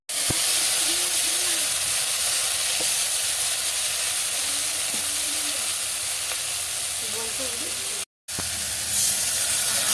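An okra mixture sizzles and steams hard in a hot wok after water is added, giving a loud, steady hiss that fills the whole stretch and breaks off once briefly near the end.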